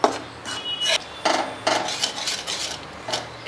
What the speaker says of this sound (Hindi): अच्छी तरह से मैं मिक्स कर रही हूँ